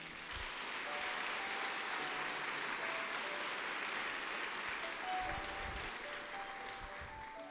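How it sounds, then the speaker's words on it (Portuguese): A Catholic church congregation claps during a sermon, a soft, steady wash of distant applause filling the space and carrying on evenly for several seconds. "Aplauda isso."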